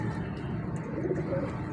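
Soft, low cooing of a breeder pigeon in a cage, repeated gently over a steady background hum.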